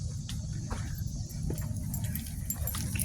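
Several puppies whining and whimpering at close range, with short high yips and cries breaking over a low rumbling background.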